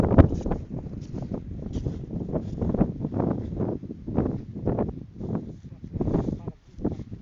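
Strong gusts buffet banana trees during a storm, a rough rumbling wind roar with bursts of rustling leaves and heavy microphone buffeting, rising and falling in surges throughout.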